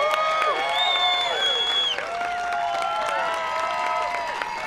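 A large crowd at a pickleball Tournament of Champions applauds and cheers for the winner, a steady, loud wash of clapping and whoops mixed with whistles that carries on without a break.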